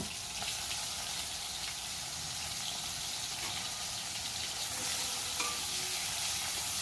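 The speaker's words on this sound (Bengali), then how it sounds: "এবার আমি মাছগুলোকে ভালো করে ভেজে নেব।" Fish fries in hot oil in a pan, a steady, even, crackling sizzle that fills the whole stretch at close range with no voices.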